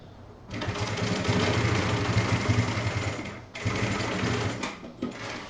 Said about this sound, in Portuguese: E vamos costurar pelo lado de cá, que a gente já tem a base de costura.